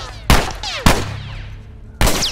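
Three sharp, loud gunshots ring out in The Last of Us Remastered, two close together and a third after a pause, each with a ringing tail.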